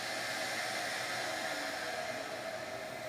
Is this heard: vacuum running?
yes